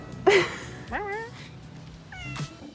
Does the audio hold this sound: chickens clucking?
no